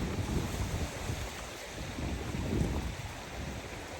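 Strong wind blows outdoors as a loud, continuous rushing roar buffeting the microphone, with gusts swelling and easing and no voices.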